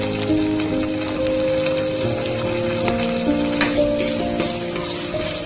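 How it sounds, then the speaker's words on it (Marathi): Tomato and curry leaves fry in hot oil for a Malvani-style potato and drumstick bhaji, giving a steady, close sizzle that runs unbroken with faint stirring and no talk. "व्यवस्थित गरम होऊ द्या. फ्राय होऊ द्या आतमध्ये तेलात."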